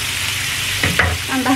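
Shrimp and chayote stir-frying in a pan for a Chinese-style dish, a steady close sizzle with spatula scrapes and clinks toward the end, no talking.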